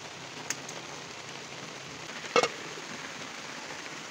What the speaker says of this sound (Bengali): তো পরে এক পর্যায়ে দেখি যে মোটামুটি বৃষ্টিটা একটু কমে এসেছে